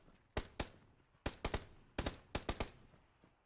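Gunfire in the battle royale game PUBG: sharp single shots in quick bursts of two or three, about a dozen cracks over a few seconds, fairly distant and crisp against a quiet background.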